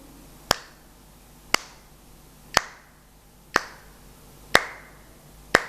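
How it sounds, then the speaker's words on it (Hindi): Six sharp, evenly spaced hand claps land about once per second, keeping a steady 60-beat pulse in a quiet room with no voices over them. "आप भी घर पे करोगे ये क्लैपिंग।"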